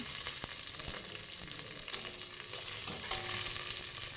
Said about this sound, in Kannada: ಈಗ ಸ್ವಲ್ಪ ಜಜ್ಕೊಂಡಿರುವ ಬೆಳ್ಳುಳ್ಳಿಯನ್ನು ಹಾಕಿ ಸ್ವಲ್ಪ ಮತ್ತು ಮಿಕ್ಸ್ ಮಾಡಬೇಕು